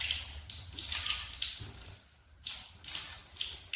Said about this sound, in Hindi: कुल्ला करने के बाद आपको नाक में पानी चढ़ाना है इस तरीके से